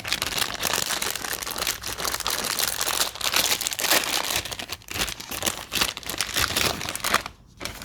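A Hot Wheels Mystery Models plastic bag is torn and crinkled open close up, a loud, continuous rustling and crackling of packaging that runs for several seconds before a brief quiet pause.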